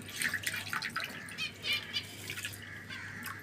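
Water splashes and trickles into a clay pot set out for birds, soft pouring and dripping sounds heard close by with faint bird chirps around.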